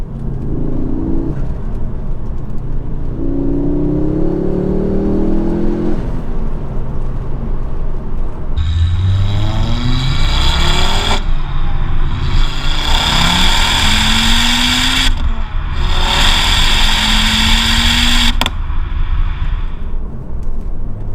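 Mk2 Ford Focus RS MP350 exhaust while driving: loud, close engine repeatedly accelerating through the gears, rising revving sweeps with gear-change breaks and a throaty drone, no one talking.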